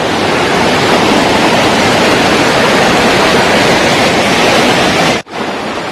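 Heavy rushing water from a monsoon waterfall along a roadside trail, a loud, dense continuous roar close by that cuts out abruptly near the end before resuming more faintly.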